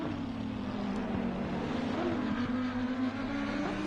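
Racing engine of a McLaren GT3 car at Laguna Seca in a sim racing game, a steady, sustained drone holding a constant pitch, with no voices over it.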